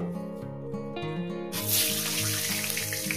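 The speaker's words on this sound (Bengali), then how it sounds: "আলুগুলো সুন্দর করে লাল লাল করে ভেজে নেবো, কিন্তু পোড়াবে না" Potatoes fry in a pan for a home-cooked chicken curry, and a loud, steady sizzle starts partway through and continues over a sustained musical tone.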